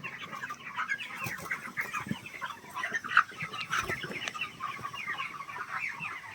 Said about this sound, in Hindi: कितना शानदार मुर्गा है